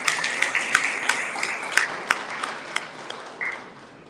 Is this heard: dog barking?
no